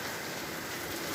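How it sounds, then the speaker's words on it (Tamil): Heavy rain pours steadily as a dense, even hiss, faint and unbroken for the whole moment, with no one talking. "பயங்கரமாக மழை கைஸ்."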